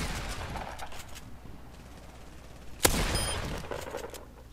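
Gunfire in a first-person shooter game, with shotgun shots: one sharp, loud blast stands out midway, with softer scattered shots and rumbling game noise around it.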